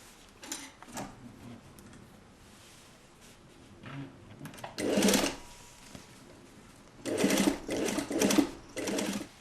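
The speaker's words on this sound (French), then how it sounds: "Et maintenant, on fait la couture tout autour." Sewing machine stitching the seam of a basque corset from a kit, heard in short bursts of rapid mechanical chatter separated by pauses and light handling clicks, close and fairly loud.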